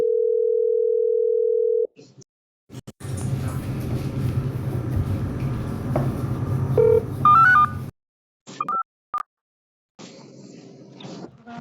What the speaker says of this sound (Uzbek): Boshqatdan telefon qilayapman.